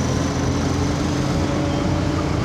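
Continuous engine drone from a Royal Enfield GT650 motorcycle on an early morning ride, a loud, steady low rumble with wind noise and no speech.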